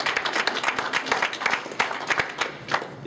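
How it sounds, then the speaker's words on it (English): Audience applause at a presentation, a steady patter of many hands clapping together at moderate volume, with no voices over it. "Feel free to clap."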